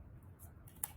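Scissors make a single quick snip through paper during a sixth-grade art class craft, faint and close against a low background hum.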